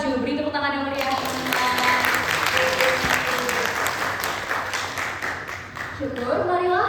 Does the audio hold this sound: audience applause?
yes